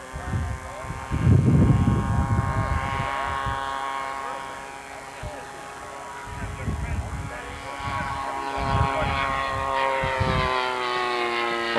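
A World War II propeller bomber comes in to land with its landing gear down, a steady droning engine hum with harmonic tones running throughout, heard under intermittent nearby talking and outdoor crowd noise at a commemorative airfield event.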